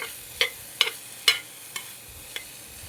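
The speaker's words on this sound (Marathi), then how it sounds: "आता याला थोडं फार असं परतून घेऊया सांबार सगळं." A spoon stirs and sautés vegetable curry with sambar masala in a pan, five or so distinct clinks and scrapes at an uneven rhythm over a faint, steady sizzle.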